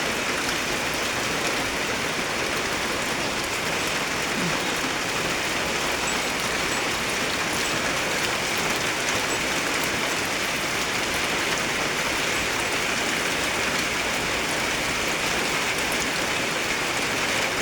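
Steady, heavy rain pours down continuously, a dense hiss of drops pattering on surfaces with no pauses and no voices.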